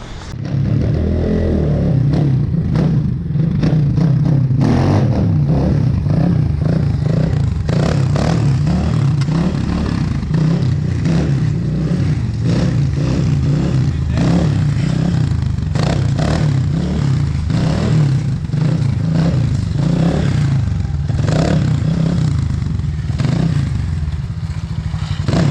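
An Apollo Thunder 300cc motorcycle engine runs loud and close, holding a steady low rumble with rattling and clattering mechanical noise throughout and no talking.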